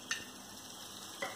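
Coconut pieces frying in hot coconut oil for a Kerala-style chicken roast give a steady, quiet sizzle, with two brief scraping clicks of a utensil at the start and near the end.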